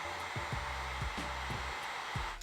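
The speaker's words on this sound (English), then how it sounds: "then you're gonna take your heat gun." A heat gun blows hot air onto a helmet mount, a steady close whooshing hiss throughout, with faint low clicks and taps in the background.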